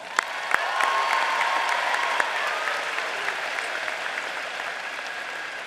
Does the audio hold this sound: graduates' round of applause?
yes